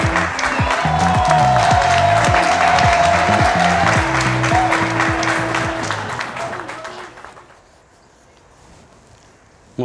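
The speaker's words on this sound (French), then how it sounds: "je vous prie d'accueillir avec énormément d'applaudissements notre" A stand-up comedy crowd greets comedian Mathieu with loud, dense applause and some cheering, which holds for several seconds and then fades away to near silence.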